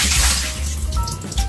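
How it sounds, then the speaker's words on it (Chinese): Pork ribs are rinsed under running tap water in a kitchen sink, a brief, loud, close gush of splashing water. "再冲洗几次。"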